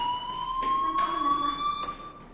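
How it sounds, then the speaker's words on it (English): Fire alarm ringing in the video game Life Is Strange, a steady electronic tone with clear harmonics holding across the whole span at moderate loudness, with faint background sounds underneath. "Hey, do you hear that fire alarm? That means you should be outside."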